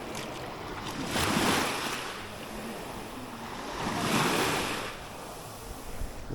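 Strong sea waves at a beach roll in and break in two slow surges, rising and fading with a windy rumble between them, with no talking.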